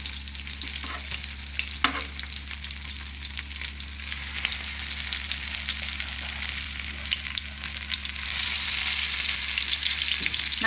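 Fish fries in hot oil in a pan, giving a constant close sizzle with crackling that builds slightly louder toward the end and a couple of faint taps. No voices can be heard.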